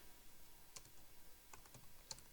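Quiet computer keyboard typing while entering a query: a handful of soft, scattered key clicks over faint room noise, with no voices.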